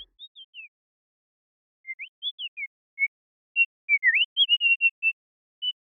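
Synthesized bird chirps built from free modules in VCV Rack: short, high, bending whistle-like tweets in scattered bursts, then a quicker cluster of chirps, clean and isolated against silence.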